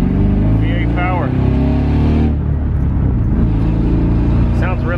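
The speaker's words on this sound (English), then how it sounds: "It sounds so good for the shitty exhaust that I have on it." A deep LS V8 engine swapped into a Mazda Miata rumbles loudly nearby through garage-built headers and a cheap exhaust, idling with a heavy throb and a brief rev.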